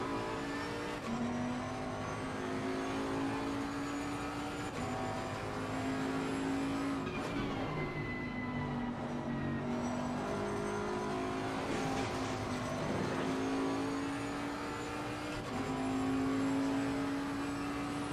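A Bentley race car engine drones throughout a session of Assetto Corsa Competizione, its pitch rising through the revs and dipping with each gear change, loud and continuous with no voices.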